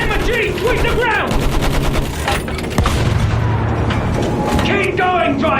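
Battlefield 1 machine gun fire in a rapid, sustained burst with heavy booming impacts, loud and close amid shouting voices in a dense battlefield soundscape.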